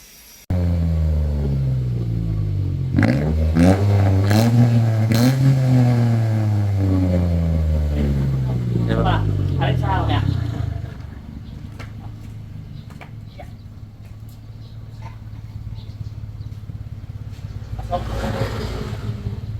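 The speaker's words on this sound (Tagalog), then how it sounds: "agad tayo nagtesting ng mga muffler tip para mamili ng may magandang tunog." A Mitsubishi Mirage G4 fitted with an HKS muffler revs hard and repeatedly near the exhaust, with rising and falling engine tones before settling to a steady idle rumble while people talk nearby.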